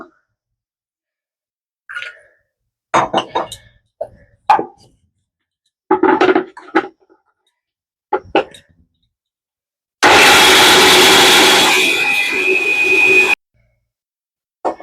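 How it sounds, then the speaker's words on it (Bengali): A kitchen mixer grinder runs in one loud, steady whirring burst of about three seconds as green peas with a little water are ground to paste, with scattered clinks and kitchen handling before it. "মটরশুঁটিটা আমি মিক্সি পেস্ট করে নেব।"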